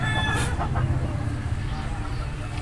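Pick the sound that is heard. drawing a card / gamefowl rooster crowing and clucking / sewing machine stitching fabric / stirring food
gamefowl rooster crowing and clucking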